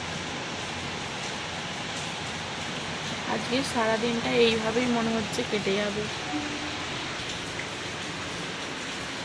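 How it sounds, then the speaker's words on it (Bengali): Heavy monsoon downpour drumming steadily on a village home, a dense continuous hiss that persists throughout while someone speaks over it partway through. "দেখো মুষলধারে বৃষ্টি হচ্ছে"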